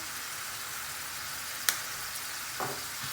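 Whole spices such as cardamom, cinnamon and white pepper sizzle steadily in a cooking pan, a soft continuous frying hiss broken by a couple of brief scraping stirs.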